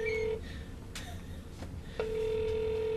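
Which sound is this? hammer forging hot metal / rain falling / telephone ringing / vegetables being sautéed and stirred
telephone ringing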